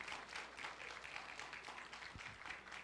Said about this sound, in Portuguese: Um aplauso para o Pedro